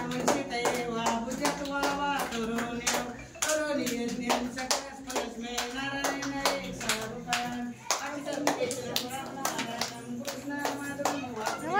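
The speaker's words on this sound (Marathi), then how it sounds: "कसे दुलग्या टाळ्या वाजवते" Hands clap repeatedly in quick, uneven bursts at close range, mixed with lively chatter and background music throughout.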